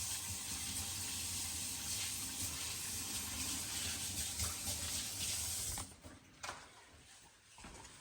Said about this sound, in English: Now, obviously, I'm going to have to go wash my hands.